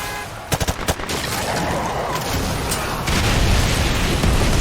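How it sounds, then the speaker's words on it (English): Helicopter firing missiles onto a road in the Call of Duty Modern Warfare Remastered video game, loud rapid bursts of gunfire and booms followed by a dense continuous rumble of battle. "There's a helicopter just raining missiles onto the road, chasing the other allies down on another road."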